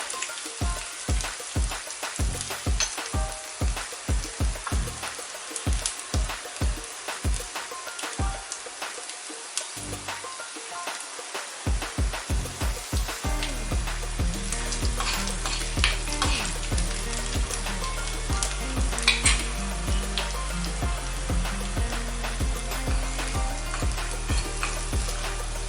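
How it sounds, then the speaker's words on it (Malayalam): Onion and curry leaves frying in a pan, a steady loud sizzle with bursts of crackling and popping and occasional stirring scrapes, growing denser and more continuous partway through; no voices. "ഉള്ളി ഒന്ന് മൂത്ത് വന്നതിന് ശേഷം നമുക്ക് കറിവേപ്പില കൂടെ ഇട്ട് കൊടുക്കാം"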